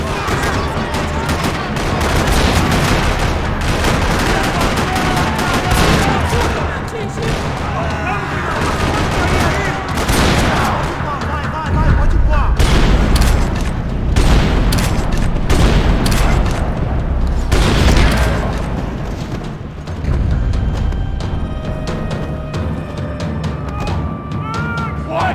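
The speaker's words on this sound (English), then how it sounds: "Another parking lot rattling with gunfire." Gunfire ringing through a parking lot in the video game Max Payne 3: loud, dense bursts of shots and booms run almost nonstop, with a brief voice heard among them.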